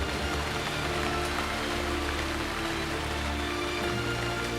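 Heavy film-set effects rain hisses and patters steadily on a surface, a dense, unbroken wash of sound with a low hum beneath it.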